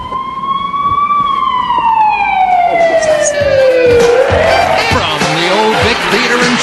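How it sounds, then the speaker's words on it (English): A loud siren wails with a steady tone that slowly slides downward in pitch, then fades into a wash of noisy rumble and clatter. "Anyway, what's that? Sirens."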